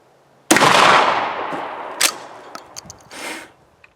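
Two ceramic bullets striking a Rand McNally Library Dictionary: a sudden loud burst followed by a decaying roar, then a second sharp crack and several smaller clattering impacts and debris hits.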